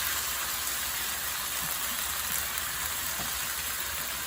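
Pork steak frying in a pan over medium heat, giving a steady, even sizzle with a fine crackle, moderately close and alone.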